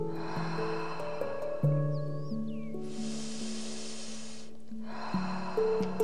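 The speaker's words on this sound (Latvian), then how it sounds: "Turpini elpot." Slow, airy breaths during a guided breathing meditation, one long hissing breath followed after a pause by another, set against sustained soft ambient music tones.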